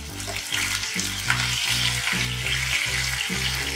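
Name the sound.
prawns briefly frying and stirred in hot mustard oil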